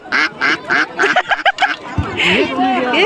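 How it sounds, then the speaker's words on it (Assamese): Repeated raspy quacks from a Campbell duck in quick bursts, several in a row, close and loud, with a person talking over the latter part. "এইটো কেম্বেল হাঁহ"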